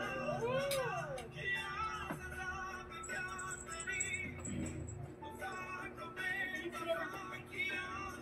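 A cat gives a few clear meows, including a rising-and-falling call early on, mixed in with nearby voices talking in a quiet indoor setting.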